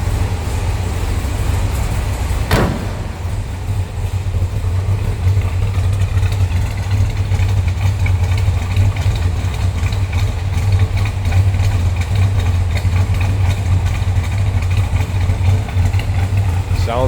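A 1970 Chevrolet Chevelle SS convertible with an LS5 V8 idles steadily while warming up, a deep continuous low rumble with one sharp transient near the start.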